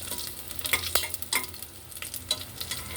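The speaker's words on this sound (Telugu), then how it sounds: "జీలకర్ర, పోపు, ఉల్లిపాయలు మంచి కలర్ వచ్చే వరకు వేయించాలి" Cumin, tempering spices and onions sizzle in hot oil as a spoon stirs and scrapes the pan with soft, irregular clicks.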